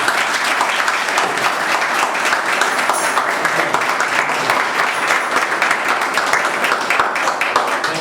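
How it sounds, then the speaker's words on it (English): A church congregation at a thanksgiving prayer service breaks into full, steady applause, many hands clapping in a dense, continuous roar that holds at an even level for the whole stretch. "please give her a big clap"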